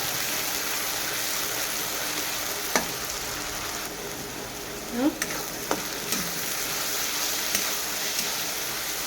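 Garlic, onion and green chilli paste frying in a pan: a steady close hiss of sizzling oil throughout, broken by a few soft scrapes and stirring sounds, with no talking.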